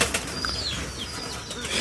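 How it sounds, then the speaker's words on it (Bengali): Pigeons hop and scurry about in their coop in the morning, with brief soft wing flaps and rustling at moderate level, and faint bird chirps in the background. "সব কবুতর অনেক লাফালাফি ছোটাছুটি করতেছে।"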